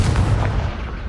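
A blasting fire spell explodes in a Hogwarts video game, a heavy booming burst with a dense low rumble that rolls on for about a second, loud and close.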